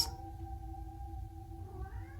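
A pet cat gives a single drawn-out meow, close and clear, with steady harmonic tones that rise slightly toward the end.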